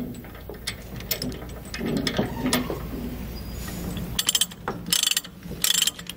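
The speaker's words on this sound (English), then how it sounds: "So we're just going to start ratcheting that down." Titan transport chain with grab hooks being tightened by a ratchet binder: a series of clicking ratchet strokes and metallic clanks, irregular rhythm, close and moderately loud, no speech.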